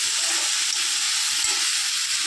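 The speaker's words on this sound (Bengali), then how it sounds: "দেখো আলুটা আমার ভাজা ভাজা হয়ে গেল" Potato pieces fry in a pan, a steady close sizzle and hiss with faint steam, no voices over it.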